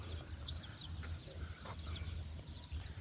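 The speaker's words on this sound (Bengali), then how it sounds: "এ পাশে বাচ্চা আছে, ওই পাশে বড় মুরগি আছে" Chickens, both chicks and grown hens, on a poultry farm give soft, scattered clucks and chirps, faint and somewhat distant over a steady low background rumble.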